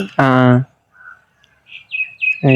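A pet pigeon calls with several short chirping notes between bursts of nearby talk, close and fairly loud.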